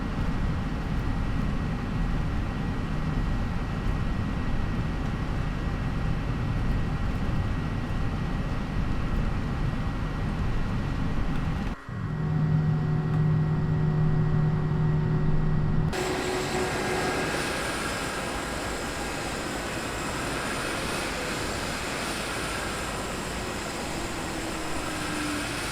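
Jetstar Airbus A320 in the P3D flight simulator taxiing at idle thrust, its engines giving a steady, close, droning rumble with a faint whine, which shifts to a brighter, airier hiss partway through.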